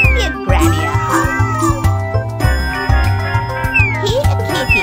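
Repeated meows from a game cat in Super Granny 3 cut through bouncy background music and tinkling effects, each call brief and close, with no voices present.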